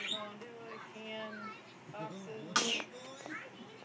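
A single short sneeze, heard close, cutting through a child's chatter in a home.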